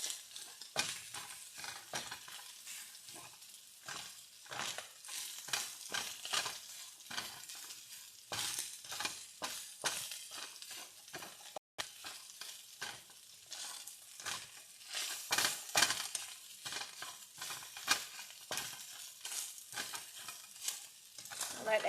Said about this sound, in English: got my rice frying in there with the sausage